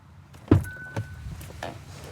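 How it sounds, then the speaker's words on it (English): The wipers on a Kia EV6 motor up into service mode: a sharp mechanical clunk, a short whirring movement, then a softer thunk and light rattles from close by, all brief. "The wipers go up into service mode."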